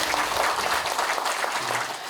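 Brief burst of audience applause at a Buddhist dharma lecture-transmission ceremony, a dense crowd clapping steadily and then tapering slightly.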